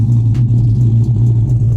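Cammed Dodge Charger R/T idling low at about 700 rpm on a new tune, not fully warmed up, a loud close rumble with a lopsided, pulsing chop.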